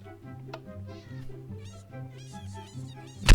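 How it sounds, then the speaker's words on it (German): Minecraft cat meowing in a short, repeated tonal call that sits close behind a German-speaking voice, ending with a sudden loud thump. "Ja, er spawnt Katze."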